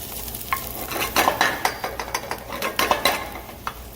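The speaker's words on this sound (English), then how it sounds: "So make sure you stir them so that they don't get stuck in a hot spot and get any color on them." Onions sauté for risotto over medium-low heat in a pan, with a gentle sizzle under repeated close scraping and clinking strokes of a utensil stirring against the pan.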